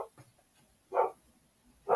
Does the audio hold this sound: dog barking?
yes